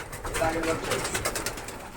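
Fancy Lakka pigeons kept for sale cooing softly close by, a few low throaty coos under background chatter and ambient noise.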